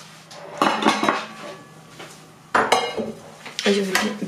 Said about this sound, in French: Et je vais bien mélanger.